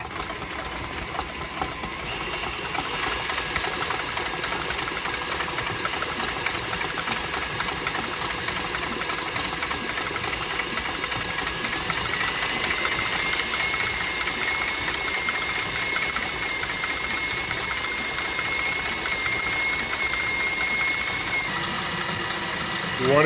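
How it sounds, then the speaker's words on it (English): KitchenAid stand mixer whipping egg whites with food coloring toward stiff peaks, a steady close motor whine and whir running continuously throughout. "because I only have one KitchenAid, is I'm going to mix together the egg whites and the food coloring to stiff peaks"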